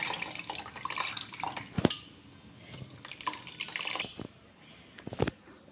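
Soaked tamarind water is poured into a Telangana-style fish curry, making irregular splashes and drips with a few sharper plops, close and fairly quiet, with no speech.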